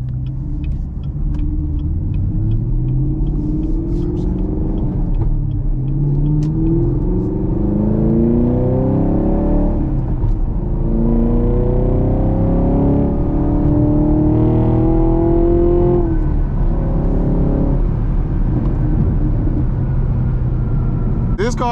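A Camaro 2SS 1LE with a six-speed manual roars hard from inside the cabin, engine pitch climbing through the gears with brief drops at each shift, loud and continuous under occasional talk.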